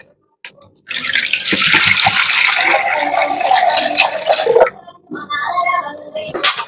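Water pours steadily into a bowl of mint powder while mint water for panipuri is made at home, a close, continuous splashing stream that stops briefly before a shorter second pour.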